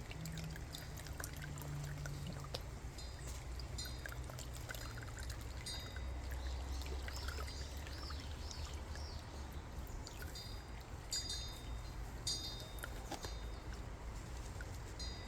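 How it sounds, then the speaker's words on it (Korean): Water soaks the soil of a potted scaevola plant and drains out of the pot as muddy runoff, a continuous close trickle and splash with small dribbling sounds throughout, moderately quiet and with no talking. "이제 물을 줘보면, 예, 물을 흠뻑 내려줍니다. 그러면 지금 이제 흙물이 나와요."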